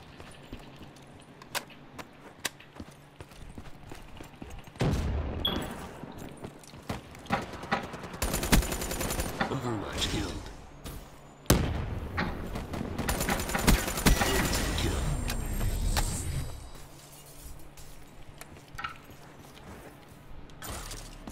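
Bursts of automatic rifle fire and scattered single shots ring out in a Call of Duty: Black Ops III multiplayer match, loud and sustained in two long volleys with quieter shots and clicks between.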